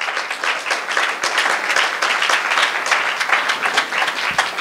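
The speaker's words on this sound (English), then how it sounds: "Let's all clap our hands to the Lord in Jesus' name" A church congregation claps hands together in dense, sustained applause during a Sunday service, loud and close, with a faint voice underneath.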